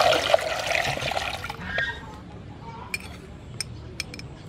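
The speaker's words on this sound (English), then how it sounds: "Add some water." Water is poured into a pot while cooking sea snail salad, a loud splashing rush lasting a second or two, then fading into a few light clinks of kitchenware.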